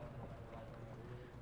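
Polo ponies gallop during a tough chukker in a Super Nations Cup match, their hooves thudding in a steady, continuous clip-clop at moderate distance, with crowd or commentary murmur underneath.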